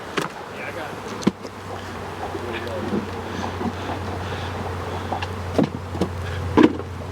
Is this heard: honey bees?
yes